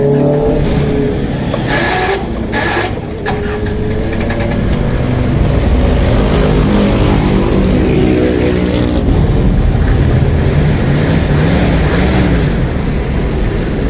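A Toyota 5K engine cranks and catches, then idles steadily and loud up close, its low rumble continuous throughout with a brief rougher patch early on.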